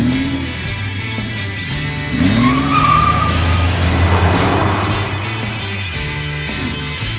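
A modified Jeep crawls off-road at slow speed, its engine a steady low rumble throughout, swelling somewhat louder mid-way with faint tire and drivetrain noise and no talking.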